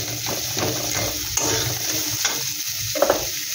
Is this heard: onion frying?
yes